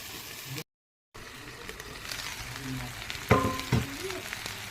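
Dhekiya fern bhaji frying in a pan, with a steady low sizzle throughout and a short burst of clatter and stirring near the end, close and moderately loud.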